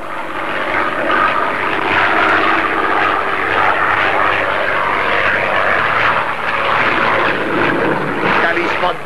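A propeller airplane in a cartoon drones steadily as it takes off, the engine loud and continuous throughout, with no one speaking.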